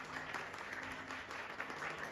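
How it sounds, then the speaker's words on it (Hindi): Applause from a congregation at a Hindi-language holiness sermon: a soft, continuous patter of many hands clapping, fairly distant and even, with no speech over it. "खुदा के जलाल के लिए एक बार फिर से जोरदार तालियां"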